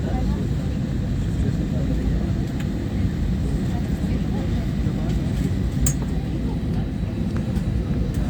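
IndiGo Airbus A320-271neo departing from Ranchi, a loud, steady, unbroken roar of engine and airflow rumble that holds throughout.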